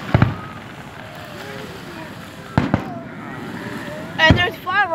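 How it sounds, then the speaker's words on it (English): Canada Day fireworks burst with three spaced, crisp bangs, the last followed by crackling, while voices chatter close by. "And there's fireworks and they're so cool."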